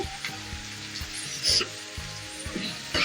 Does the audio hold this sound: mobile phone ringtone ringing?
no